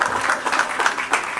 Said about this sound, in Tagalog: isa mo ng malakas na palakpakan at sigawan